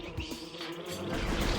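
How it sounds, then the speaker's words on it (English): Steady insect-like buzzing of bees in a video game, close and continuous, with a dense drone filling the short clip and no voices. "Bees."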